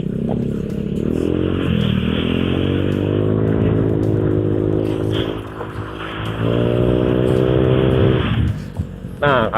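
A motorcycle engine fitted with an exhaust muffler insert revs up several times close by, its muffled exhaust rising and falling in pitch with a smooth, subdued tone.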